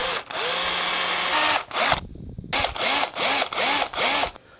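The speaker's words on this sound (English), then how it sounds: "I'll make some little eye sockets with a drill bit" A power drill bores eye sockets into a soft plastic swimbait lure carved from a toothbrush. One long whine comes first, then a pause, then several short rhythmic bursts of drilling, close and loud.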